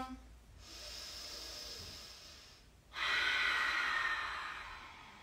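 Breathing during home yoga practice, in a standing pose: two long, close breaths of airy hiss, the second louder and fuller, with no talk over them.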